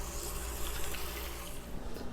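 A kitchen tap runs steadily as hands are rinsed while cooking, a continuous close, broadband hiss of water lasting about two seconds with no talk.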